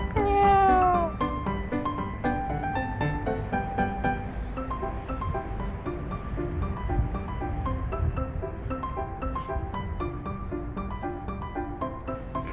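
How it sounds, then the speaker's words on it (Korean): A cat woken from sleep meows, mixed under steady background music with sustained tones throughout. "다시 고양이 잠을 깨워 보았어요. 야옹야옹 하면서요."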